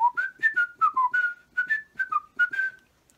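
A person whistles a short melodic tune of about a dozen clear notes, close and alone.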